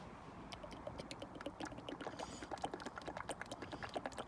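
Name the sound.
transmission fluid poured into Mercedes 724 gearbox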